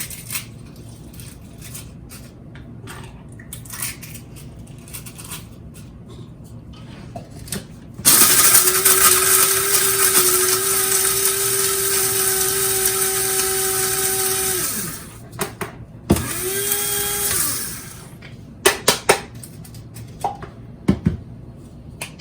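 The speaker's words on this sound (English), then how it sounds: "The eggshells are a really good way to also clean your coffee grinder." A loud motorized coffee grinder whirs and crunches through eggshells for several seconds, stops, then runs again in a short burst, with scattered clattering and tapping around it.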